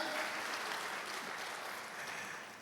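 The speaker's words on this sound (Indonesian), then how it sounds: "Yang percaya paling meriah tepuk tangan bagi Yesus Kristus Tuhan." A church congregation claps for Jesus Christ during an online worship service, a steady wash of applause that fades slightly toward the end.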